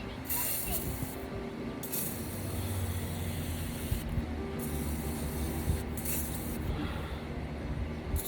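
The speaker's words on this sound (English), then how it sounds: "Spray it off real good to get rid of some of this stuff." Faint, steady hiss of spray washing down fuel delivery parts from an M35A2 truck, broken by a few short mechanical clicks and rattles, with no talking.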